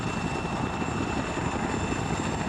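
Helicopter rotors in Arma 3 chop steadily in a constant, throbbing drone with a thin engine whine on top, close and unbroken.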